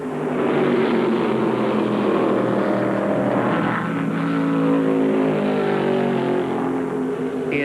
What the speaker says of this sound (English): In turn 2, Donnie has that Chevy all wound up